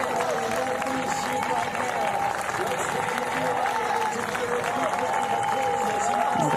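At the Paris 2024 Paralympics para triathlon finish, a large outdoor crowd cheers and claps loudly and continuously, while a commentator talks over the noise.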